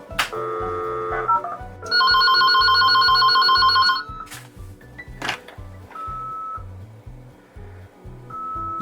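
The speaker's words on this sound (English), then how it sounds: "I dug out my old US robotics modem, connected it to the second port and dialed the phone" An old US Robotics modem dials out over a phone line: a brief dial tone and quick touch-tone digits, then steady carrier tones and a squealing handshake, with a regular low clicking pulse running underneath throughout.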